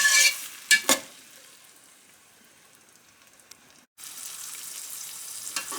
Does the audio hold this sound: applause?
no